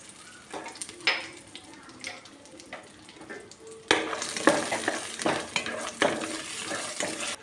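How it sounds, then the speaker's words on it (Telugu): Almonds and cashews frying in a pan for ash gourd halwa, with a soft sizzle and intermittent stirring and scraping that grows louder and busier partway through. "ఇది బాదం పప్పు జీడిపప్పు రెండింటిని వేయించుకుందాం"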